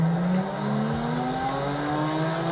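A Lamborghini Sian in a video game revs steadily, its engine tone climbing smoothly across a couple of seconds, loud and continuous with no voices over it.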